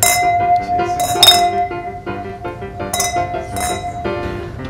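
Wine glasses clink together in a toast at lunch, several bright ringing chinks with lingering tones, some overlapping, while voices talk nearby.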